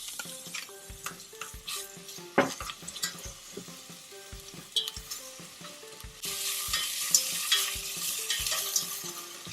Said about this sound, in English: Okay, so I'm gonna add my onions.